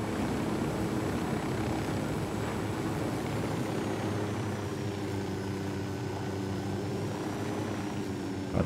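Helicopter in the Ghost Recon Wildlands video game, a steady close rotor and engine drone that holds evenly throughout with a faint whine on top, no voices over it.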